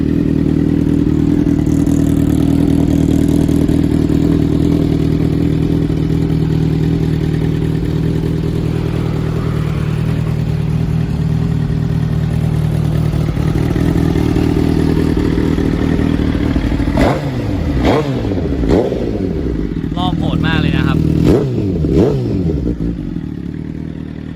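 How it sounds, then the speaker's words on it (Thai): A Suzuki GSX-R1000 K9 motorcycle engine idles loudly and steadily close by, then gives several quick throttle blips that rise and fall near the end. "รอบไม่สวิงนะรอบนี้เครื่องดีเลยแหละ"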